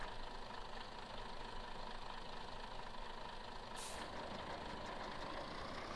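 A Mengele farm machine in Farming Simulator 15 drives with a steady, droning engine, even and continuous, plus a brief hiss partway through.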